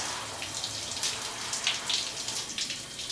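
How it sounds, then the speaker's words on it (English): Tap water running over and splashing on a leather baseball glove at a sink, a close, hissing, spattering flow with irregular bright splashes and no voices. "Kind of running it under the water a little bit."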